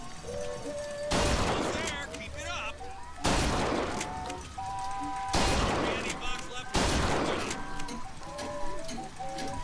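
Four loud shotgun blasts from the video game Bioshock Infinite, spaced about two seconds apart, each followed by a ringing tail and clattering game effects.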